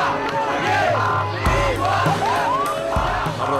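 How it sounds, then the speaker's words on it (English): Crowds in the streets of Cairo, Egypt shout and scream, a loud dense mass of yelling voices and whoops with rising and falling cries, close and continuous. "In Cairo, Egypt, the crowds are shouting and screaming."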